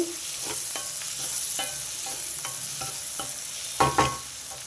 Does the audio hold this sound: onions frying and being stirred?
yes